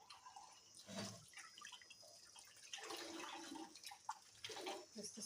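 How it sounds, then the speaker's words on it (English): Water running from an outdoor tap into a cup, with faint splashing and trickling in uneven bursts, quiet and close, among light outdoor background noise. "I'm going to fetch water at the tap right here."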